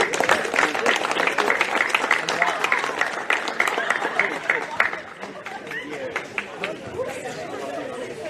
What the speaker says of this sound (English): a big round of applause to your 2023 runners-up